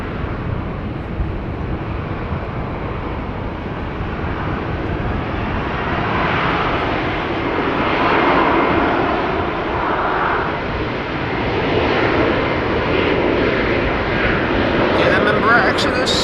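An Embraer 190 jet at Amsterdam Schiphol Airport gives off a broad, steady engine roar that swells and eases over the stretch, heard from a distance outdoors with people talking over it.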